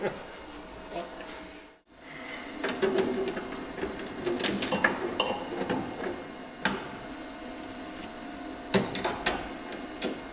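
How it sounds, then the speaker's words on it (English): Welding on the sheet metal of a rusted Sprinter van door step gives off an irregular crackling buzz with sharp clicks and pops. The sound breaks off briefly near the start, then carries on unevenly at moderate loudness. "Because I do long welds on the sheet metal, it puts lots of heat into it."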